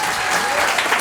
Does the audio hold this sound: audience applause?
yes